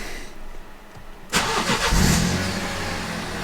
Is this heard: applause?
no